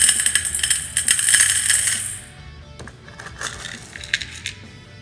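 Dried beans poured into a stainless steel bowl, a bright metallic hiss and patter of many small hard impacts for about two seconds, then scattered lighter ticks and rattles as the beans settle.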